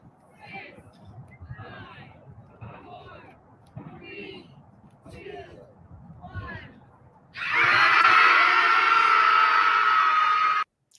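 A recording of high-pitched women screaming bursts in as a loud, sustained, shrill wall of sound lasting about three seconds. It comes after several seconds of muffled talking and murmuring.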